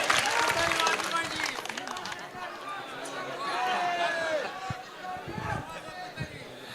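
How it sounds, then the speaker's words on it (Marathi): A rally crowd at a Karjat election meeting claps in a broad, noisy burst that swells and fades over several seconds, mixed with cheering voices and crowd chatter. "अरे मग टाळ्या जरा होऊन जाऊ दे"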